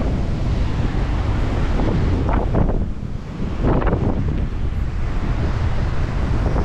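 Heavy surf from strong southerly storm winds pounds the island shore, a continuous loud roar of crashing waves with swelling surges, buffeted throughout by gusty wind noise on the microphone.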